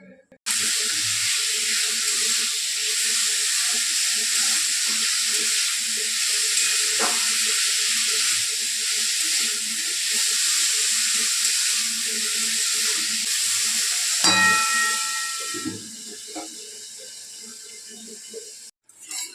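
Potatoes sizzle steadily in a pan with salt and turmeric for Bengali aloo chorchori, a loud continuous frying hiss with a few stirring clatters near the end.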